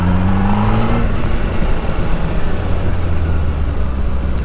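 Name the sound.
motorcycle engine revving while shifting gears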